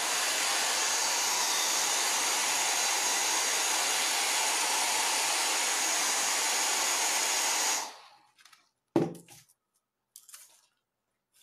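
A hair dryer blows steadily and loudly for about eight seconds while drying stencil paint on a country primitive painting, then switches off, leaving a few light taps and handling noises.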